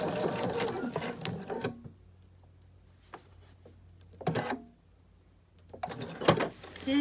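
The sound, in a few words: sewing machine doing a fixed stitch on minky fabric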